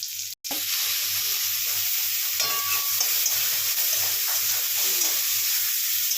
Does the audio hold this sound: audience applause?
no